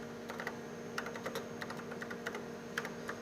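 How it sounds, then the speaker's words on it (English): Commands are typed on a computer keyboard for programming a PUMA robot, heard as soft, irregular clicks of keys in quick bursts against a faint steady hum, with no talking. "So I'll type in this in the command, and then I will execute it."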